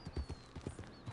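A horse's hooves clip-clop in Red Dead Redemption 2, quiet, evenly spaced thuds in a steady walking rhythm, heard alone at moderate distance.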